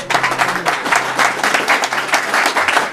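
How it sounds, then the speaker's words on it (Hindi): Audience applause fills the room during a church sermon, dense sustained clapping from a sizeable congregation, loud and steady with no voices standing out above it. "बहुत सारी तालियां"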